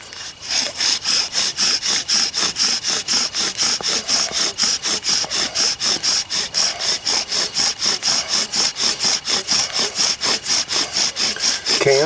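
Bow drill spindle rubbing back and forth against a wooden fireboard to make fire, a loud rhythmic rasping of steady strokes about three or four per second, continuous and close throughout.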